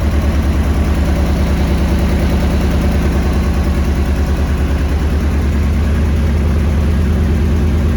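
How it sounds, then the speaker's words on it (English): A Ford Cosworth YB engine with a faulty starter motor idles steadily and loudly up close in a Mk1 Escort, a constant low rumble with a fast, even mechanical pulse and no voices. "Apart from the dodgy starter motor, it runs."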